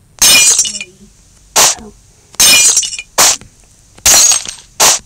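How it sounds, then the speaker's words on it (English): Glass shatters repeatedly in three pairs of bursts, each a loud crashing smash followed by a shorter crack, with brief speech between the breaks. "tell us if you guys hate the sounds of glass breaking"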